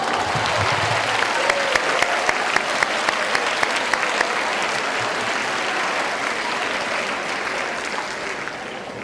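Loud, sustained audience applause at a school promotion ceremony after award nominees' names are read, a thick wash of clapping that stays steady before easing slightly toward the end.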